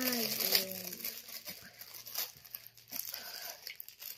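A parcel from China being opened, with crinkling and tearing of plastic packaging in short, close rustles and rips and brief voices in between.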